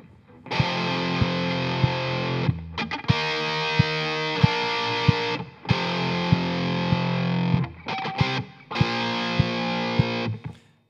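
Distorted electric guitar plays a chorus, loud driving chords in repeated phrases separated by brief gaps, with no voices.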